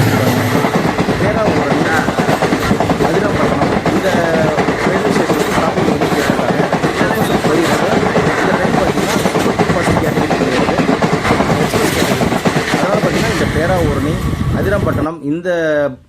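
The Pamban Express, a Rameswaram–Tambaram passenger train, rumbles past loudly close by, wheels clattering steadily on the rails for a long stretch, with voices faintly underneath before it fades.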